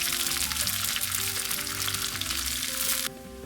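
Chopped ginger and deseeded green chilies sauté in a pan for a green plantain curry, a loud close crackling sizzle running steadily before easing suddenly near the end.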